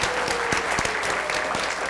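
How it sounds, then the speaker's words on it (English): Audience applause at an education presentation in Hawaii, a steady dense wash of clapping from a room of people holding at even loudness throughout. "Can we give them a round of applause?"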